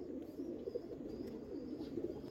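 A female pigeon of a prized fancy breed coos softly and continuously, a low droning murmur with slight swells, no voices over it.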